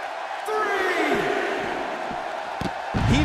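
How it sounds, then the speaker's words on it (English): A steady arena crowd roars and cheers throughout a WWE 2K16 wrestling match, with a commentator talking over the continuous, loud crowd noise. "by the sound of this crowd, I think they're getting what they wanted"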